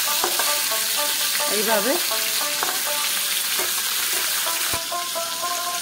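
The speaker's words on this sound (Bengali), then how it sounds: "মাছটাকে আমি এপিট ওপিট ঘুরিয়ে ভাজা করব।" Rohu fish pieces fry in hot oil, a loud continuous sizzle with scraping stirs and clinks, while someone briefly speaks over it.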